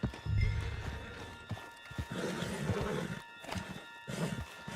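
A video game horse whinnies loudly up close, followed by hooves clopping and shuffling, with bursts of movement and rustling.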